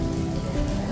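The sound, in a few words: rain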